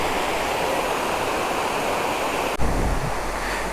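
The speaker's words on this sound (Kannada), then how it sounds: "ಮಗಜಹಳ್ಳಿ ಫಾಲ್ಸ್ ಇದು, ಮಗಜಹಳ್ಳಿ ಅಬ್ಬೆ ಫಾಲ್ಸ್." Steady, loud roar of rushing water at Magajahalli Abbe waterfall, a broadband wash filling the whole clip close by, with a brief dip and thump near the end.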